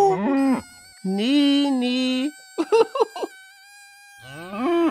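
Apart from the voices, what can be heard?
cow mooing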